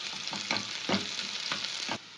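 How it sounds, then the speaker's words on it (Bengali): Chopped onion frying in hot oil in a pan for a Kolkata street-style egg roll filling, a steady close sizzle punctuated by a few rhythmic stirring scrapes, then cutting to quieter frying. "একটু নাড়াচাড়া করে নিয়েছি।"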